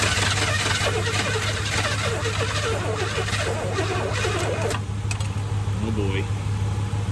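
A neglected 1981 Chevy K10 truck's engine runs at a loud, steady idle with a constant low hum after starting, while someone speaks briefly over it.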